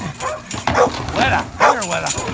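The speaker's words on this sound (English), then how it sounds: "So the neighbor's dog is over here supervising." A neighbor's dog yips, barks and whimpers excitedly outdoors at close range, short rising and falling cries mixed with a person's voice talking over it.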